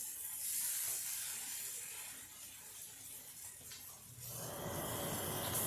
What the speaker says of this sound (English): here comes my fan. Always comes on because when I'm cooking